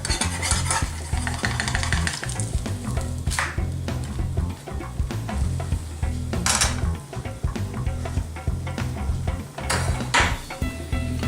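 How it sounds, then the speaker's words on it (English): A pancake fries in a pan after flipping, a continuous close sizzle with repeated spatula scrapes and taps against the pan and a few sharper bursts. "Next, you just flip the pancake."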